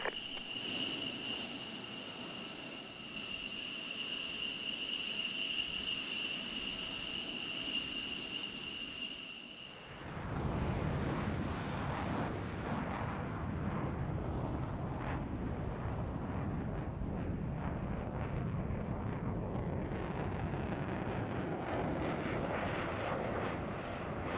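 A jet aircraft in ARMA 3 spools up with the throttle at about 80 percent for takeoff, a steady high engine whine that shifts into a loud, broad roar that rumbles on continuously.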